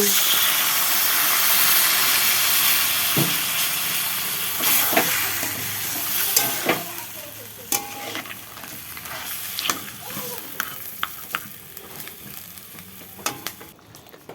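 Water poured into a pan of frying crab curry makes a loud broad sizzle and steamy hiss that slowly eases, followed by scattered stirring knocks and clinks against the pan.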